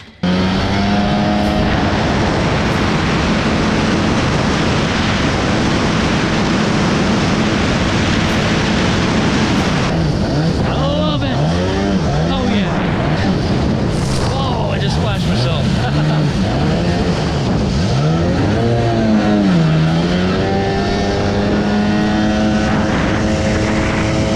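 A 1995-96 Sea-Doo XP jet ski engine runs at speed, a loud, steady high-revving drone that holds through the whole run, with wavering pitch sweeps from passing or changing speed.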